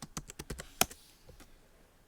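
A burst of quick keystrokes on a computer keyboard while a search is typed into a web browser: about eight close, crisp clicks in the first second, then near silence.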